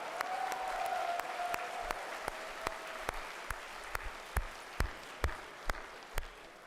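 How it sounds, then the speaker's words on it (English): An audience at a university campus event applauds, with steady mixed clapping and several louder, sharper claps standing out near the microphone as the ovation continues. "Give a round of applause for these very brave and strong young men"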